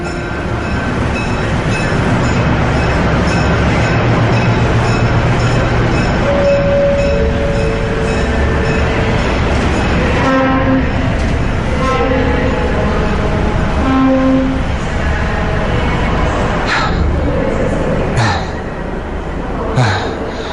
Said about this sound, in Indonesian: Untung aja sempat naik kereta yang ini.